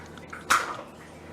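Small splash of beer poured into beer cheese dip made with Dijon, a single brief wet pour near the middle over a faint kitchen background.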